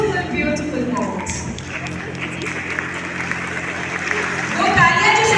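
An audience claps at a grand college celebration, a steady wash of applause running the whole time and swelling louder near the end, with speech over it.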